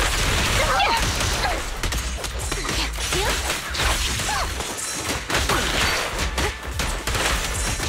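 Gunfire during a boss fight in the video game Zenless Zone Zero, a dense barrage of rapid shots, whooshes and impacts layered with game music, loud and continuous, with brief character voice lines.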